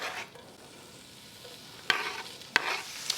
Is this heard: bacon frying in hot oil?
yes